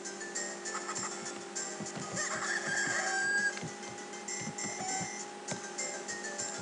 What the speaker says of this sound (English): Is that a golden cuckoo I see? Must catch golden cuckoo.